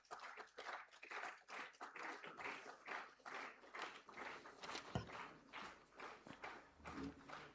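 At a student award ceremony, an audience claps for the award winners, and the applause comes through faint and distant in uneven rhythmic bursts.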